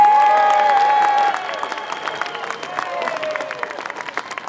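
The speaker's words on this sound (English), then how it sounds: "Please give a huge, huge round of applause for Iona Soper." An outdoor rally crowd in George Square, Glasgow, claps and cheers for a speaker, loud and sustained with scattered shouts, tapering slightly toward the end.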